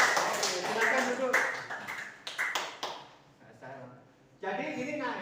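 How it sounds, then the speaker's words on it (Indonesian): A classroom of students claps hands, brisk bursts of clapping that swell and fade unevenly, with a pause and then a fresh round at the end, fairly close and moderate in level. "Ayo, aplaus, tepuk tangan."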